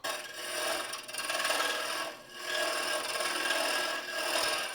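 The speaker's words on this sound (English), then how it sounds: "Let me hog off some of the middle wood first." Wooden Christmas ornament being hollowed on a lathe, with the middle wood hogged out using a hollowing system and gouge: a steady, close, rasping scrape that runs continuously with two brief dips, no talk.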